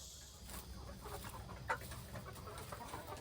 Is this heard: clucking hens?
yes